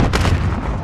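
A grenade going off in the video game Call of Duty Modern Warfare: one heavy, booming blast with a rumbling tail, loud and close.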